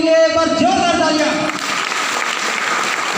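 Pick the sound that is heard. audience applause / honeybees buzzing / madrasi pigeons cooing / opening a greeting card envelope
audience applause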